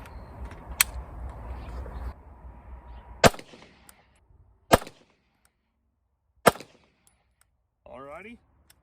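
A Canik TP9 pistol fires Zero brand 115 grain hollow point reloads: four sharp, loud, separate shots spaced a second or two apart, with a hissy background at the start and a brief murmur near the end.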